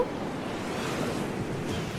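Sea waves roll onto an Okinawa beach in an anime scene, a steady, full rush of surf and wash with no break and no voices.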